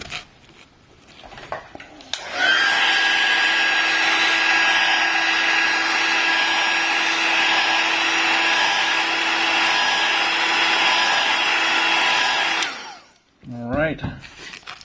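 Heat gun blowing on an iPhone screen to loosen the glass: a steady, loud whooshing hum with a fixed whine that switches on abruptly, runs about ten seconds, then cuts off, with faint handling noises before and after.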